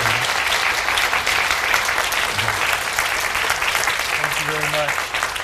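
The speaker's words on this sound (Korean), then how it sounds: "기립하셔서 뜨거운 박수로 맞아주시기 바랍니다" A large church congregation gives a standing ovation, clapping loudly and continuously, a dense steady wave of applause with a few brief voices underneath.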